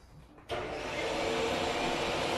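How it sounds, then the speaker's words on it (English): A workshop vacuum system starts abruptly and settles into a loud, steady roaring whoosh with a broad hiss, running continuously close by. "I'm going to turn on my vacuum system"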